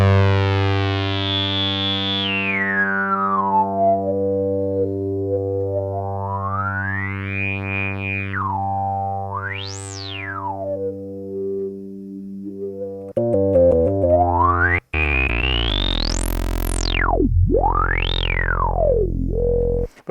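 A Crumar Spirit synthesizer in single filter mode sweeps its master cutoff and resonance, producing loud, sustained buzzy tones with whistling resonant peaks gliding up and down. A sharper, brighter sweep takes over near the end.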